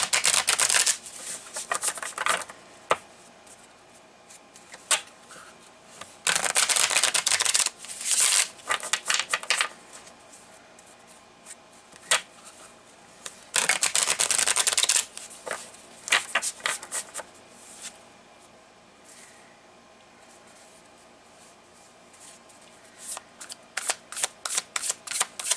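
Tarot cards are riffled and shuffled close by in repeated crisp, papery bursts, some long and dense, others brief, separated by quieter stretches of handling.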